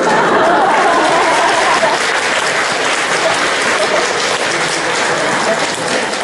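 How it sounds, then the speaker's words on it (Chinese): A theatre audience at a Changchun lantern-riddle comic performance breaks into loud, dense, sustained applause that fills the space evenly from start to finish. "我看谁敢再鼓掌？"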